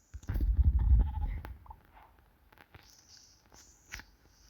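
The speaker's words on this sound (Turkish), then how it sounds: "Koyun." A burst of rustling and thumps, then a few thin, wavering sheep bleats from Minecraft, fairly quiet and synthetic-sounding.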